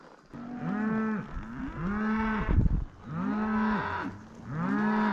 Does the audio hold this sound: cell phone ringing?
no